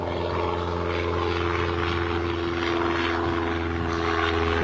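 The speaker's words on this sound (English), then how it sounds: "Got a small GA taking off now." A small general aviation propeller plane takes off at Bristol Airport, its steady engine drone loud and continuous throughout, with a strong low hum and no talk over it.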